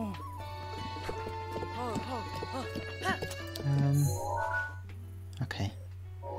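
Horse in Breath of the Wild Master Mode, game hoofbeats and a short whinny-like snort over steady tonal game music, with a person talking throughout.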